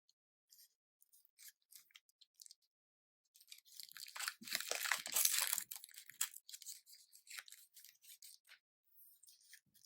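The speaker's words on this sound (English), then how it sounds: "Assemble your needle and syringe by opening each of the packagings" Needle and syringe packaging being torn and peeled open, quiet sharp crinkles and rips in scattered bursts with a denser stretch of tearing in the middle, otherwise near silence.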